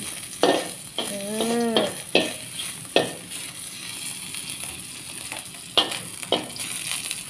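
Pad thai noodles stir-fried in oil in a wok until crispy, with scraping spatula strokes and a steady sizzle, plus a few sharp clanks and a brief tonal squeak; no one speaks.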